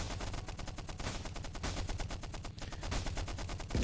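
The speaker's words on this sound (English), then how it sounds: "the machine gun's going, the cannon is firing" Rapid machine gun bursts mixed with heavier cannon shots from a French tank in the World War I game Stickman Trenches; dense, rhythmic rattling fire continues throughout, ending with a louder boom, no talking.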